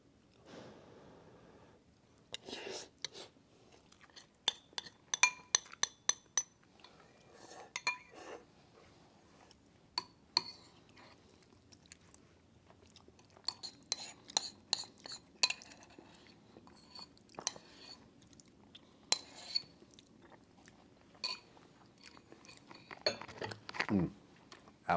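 Quiet breakfast of eggs, rice and oatmeal being eaten with cutlery: scattered light clinks and scrapes of utensils against dishes, irregular and close, with soft chewing between.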